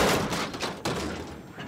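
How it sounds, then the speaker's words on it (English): A burst of splintering, cracking crashes as wooden crates break apart, loud and close, with a sharp second crack midway. "The broken crates."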